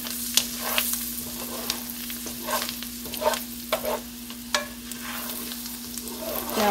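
Garlic sautéing in a pan on medium heat, a steady sizzle broken by scraping spoon strokes and small pops, close and fairly quiet, with a faint steady hum underneath.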